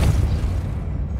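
A spell cast in the video game Hogwarts Legacy lands as a deep, booming magical blast, loud and rumbling for about a second before tailing off, with no talk over it.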